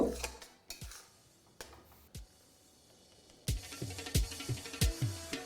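Chicken masala for Dhaba-style chicken kosha stirred in a pan, with a run of sharp metallic scrapes and clinks of a spoon against the pan that grows busier and more rhythmic toward the end, with no voices.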